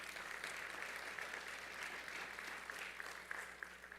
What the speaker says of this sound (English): another round of applause for expanding dual enrollment.